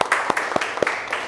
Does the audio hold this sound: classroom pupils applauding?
yes